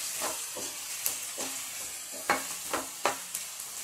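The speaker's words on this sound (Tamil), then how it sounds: "வெங்காயம் நல்லா வதக்கிடுங்கம்மா" Chopped onions sauté in a pan for tomato chutney, giving a close, steady sizzle broken by sharp scraping strokes of a spoon every half second or so.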